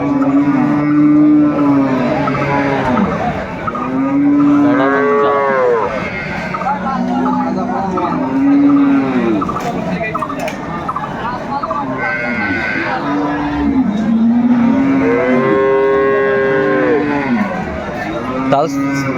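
Repeated loud moos from cows and calves at Aftabganj cattle market, Dinajpur, calls rising and falling one after another, with people talking and other livestock noise underneath.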